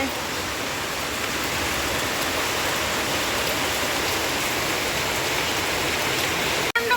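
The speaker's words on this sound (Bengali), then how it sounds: "জোরে বৃষ্টি চলে এসেছে বন্ধুরা দেখো মারাত্মক জোরে বৃষ্টি পড়ছে" Heavy rain pouring down outdoors, a dense, steady roar of water that holds unbroken throughout, with a brief knock near the end.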